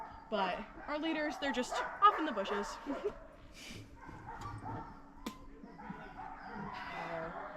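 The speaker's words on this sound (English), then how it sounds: "You can hear them like kind of crying every once in a while." Sled dogs on an Alaskan trail give occasional whines and soft yips and barks in the background while a person talks over them at close range.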